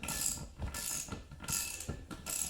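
A Bead Buster XB-455 tire bead breaker is cranked by hand, giving faint, rhythmic ratcheting clicks and mechanical clunks in short repeated bursts, with no voices.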